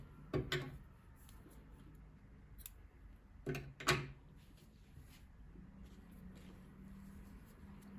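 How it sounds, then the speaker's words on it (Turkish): Scissors cut crochet yarn in two quick pairs of crisp snips, soft and close, with quiet pauses between them and a faint hum afterward. "İpliği kesiyorum."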